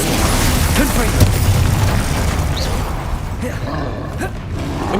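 Confringo fire spell going off in Hogwarts Legacy battle, loud booming blasts and crackling bursts layered over dense combat effects and whooshes, close and continuous.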